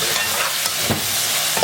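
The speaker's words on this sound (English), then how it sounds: "we're gonna give this a mix" A brief, close scraping stir through a sizzling mixture of Puerto Rican black beans in a pan, with a constant frying hiss underneath.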